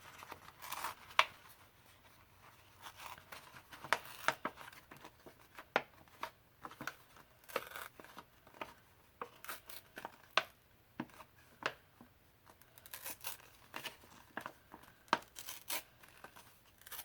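Paper is torn by hand to give a rough torn edge for a journal craft border, with repeated short rips and crinkles coming in uneven bursts, close up and fairly quiet.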